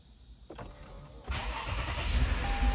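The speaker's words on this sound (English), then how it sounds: "first thing you want to do is turn the car on." A 2016 Lexus RX350 engine cranks and catches after a brief click, then settles into a steady, close, fairly loud running sound.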